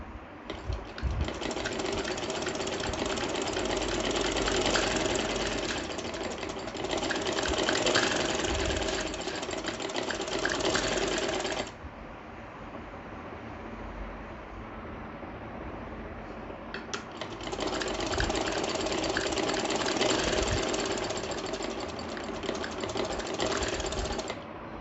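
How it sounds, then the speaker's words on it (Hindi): A sewing machine stitches the full sleeves of a ladies' kurti in two long, steady runs of rapid, close mechanical whirring, separated by a quieter pause of several seconds. "अब फुल स्लीव्स में स्टिचिंग करें।"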